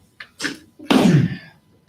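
A single loud, close sneeze bursts out after two softer breathy onsets, heard in a quiet room with no talking over it.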